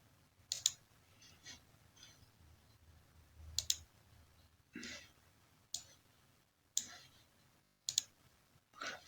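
Computer mouse clicks on a desktop while working in project scheduling software, about eight sharp, close clicks spaced a second or so apart over faint room noise.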